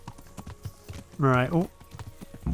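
Horse hooves in the medieval game Kingdom Come: Deliverance thud in a steady, even clip-clop rhythm at moderate volume, while someone briefly speaks over them.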